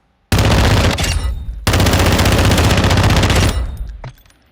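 TR-76 rifle in a shooter video game firing two long, rapid full-auto bursts, loud and close with dense rattling reports, the second burst trailing off into a short tail.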